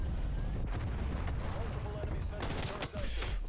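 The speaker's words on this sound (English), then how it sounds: "it's a sentry gun there, and then you got the one dude just bump, bump, bump" A sentry gun fires on the Nuketown 1984 map in Call of Duty Black Ops Cold War, a dense stream of rapid shots and booms that stays loud throughout, with other gunfire joining and a voice speaking underneath.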